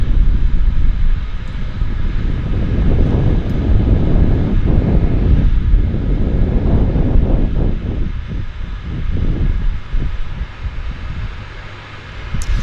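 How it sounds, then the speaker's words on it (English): A Twin Otter floatplane at Vancouver's downtown harbour airport roars with a loud, steady engine drone that swells and eases slightly as it prepares to depart. "So we're getting ready to depart this Twin Otter."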